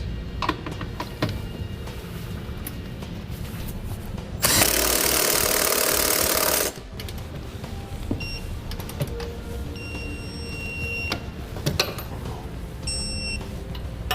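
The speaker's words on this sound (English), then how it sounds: "we'll torque it down to the specifications, which are listed in our instructions" Trailer hitch bolts being tightened on a 2017 Jeep Cherokee during a Curt Class 3 hitch install, a loud steady whir of a power tool for about two seconds amid scattered clicks and clanks of work, with no talk.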